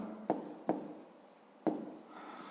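A pen writes on paper during a fifth-grade maths exercise, giving three short sharp scratchy strokes spaced apart, close and fairly quiet, with faint room hiss between them.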